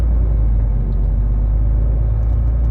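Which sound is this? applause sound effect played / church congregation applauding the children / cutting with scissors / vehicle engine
vehicle engine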